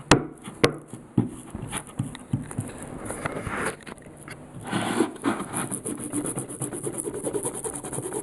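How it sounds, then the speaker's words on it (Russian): Glue is rubbed into a wooden icon board by hand, making a steady close scraping and rubbing with a few sharp knocks near the start, alone without talk. "вот такими движениями втереть клей, хорошенько посадить."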